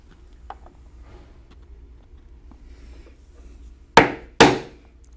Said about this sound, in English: we will use the 1/4 inch punch and punch the holes